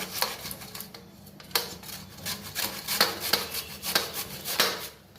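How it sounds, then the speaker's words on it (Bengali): Peeled raw green mango rubbed against a metal grater for chutney, giving steady, close, rhythmic rasping strokes with sharp scraping bursts roughly every half second. "একটা কাঁচা আম ছাড়িয়ে নিয়েছি, চাটনি করব। এটার মধ্যে আমি ঘষে নিচ্ছি।"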